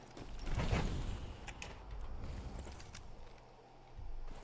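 A mechanical door sliding open in the video game Outpost Infinity Siege, a creaking, grinding movement with a soft low hum that settles toward the end.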